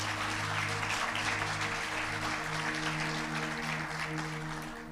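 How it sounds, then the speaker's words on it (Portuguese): A church congregation claps loudly in worship, a dense continuous wash of applause over a sustained organ-like tone, easing slightly toward the end. "Você pode aplaudir bem forte o Senhor?"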